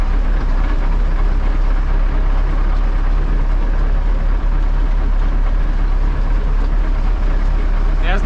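An MTZ-80L Belarus tractor driving along, its engine producing a loud, constant low rumble and mechanical drone that runs unbroken from start to finish.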